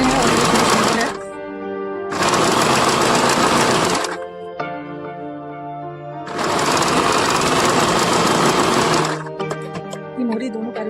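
A sewing machine stitches the hem of bellbottom palazzo pants in three loud, close bursts of fast running, with short pauses between them where a voice talks.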